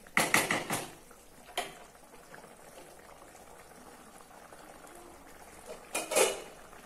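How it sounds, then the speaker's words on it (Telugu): Okra stew still boiling in a hot clay pot after the stove is switched off, a soft steady bubbling close by. Sharper clinks and splashes come in bursts near the start, around 1.5 seconds, and again near the end. "కానీ మట్టి రావడం వల్ల వేడికి ఇంకా ఉడుకుతుంది, చూస్తున్నారు కదా"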